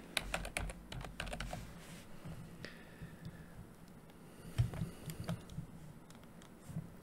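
Someone types on a computer keyboard in quick bursts of close, crisp key clicks, with short pauses between runs and no talking over them.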